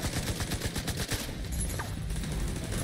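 Video game gunfire crackles in rapid, close bursts through the first half, then gives way to quieter, scattered shots and background rumble.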